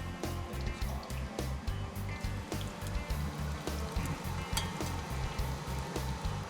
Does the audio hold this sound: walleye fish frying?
yes